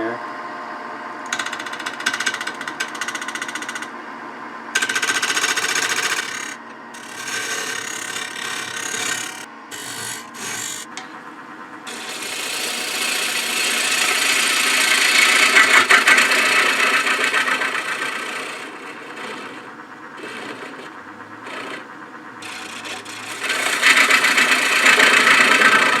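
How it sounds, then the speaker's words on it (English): On a wood lathe, a scraper works the rough edge of a winged bowl, giving a continuous whirring, chattering drone that swells and fades as the tool is eased in, close and fairly loud throughout. "Now we need to clean up this rough edge. I'm going to do that, I think, with a scraper."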